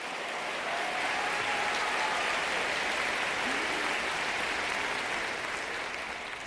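A large audience claps steadily at the 2024 Goldman Environmental Prize ceremony, a dense, sustained wash of applause that holds at full strength for several seconds before easing slightly.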